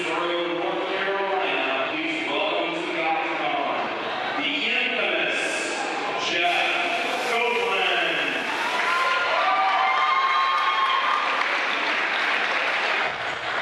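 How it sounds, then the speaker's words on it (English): A fight crowd at the TOC 26 cage event applauds fighter Jeff Copeland as he enters the cage, with steady clapping and cheering throughout and voices audible over the crowd. "Jeff Copeland with a good round of applause there from the crowd"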